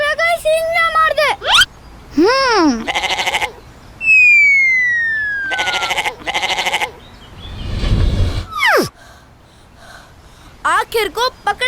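Several goats bleat loudly and repeatedly at close range during a goat scuffle before Eid ul Adha, with bursts of cries separated by short pauses and a snort-like noise midway.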